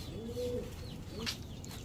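A pair of red magpie pigeons coo up close, each soft throaty call rising and falling over a low hum of background noise.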